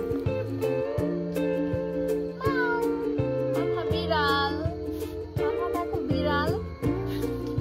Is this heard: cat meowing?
yes